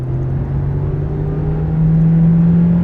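Volkswagen Jetta 1.4 TSI gasoline sedan accelerating on a downhill road, a steady loud engine drone and road rumble that swells slightly toward the end, heard from inside the car with no talking.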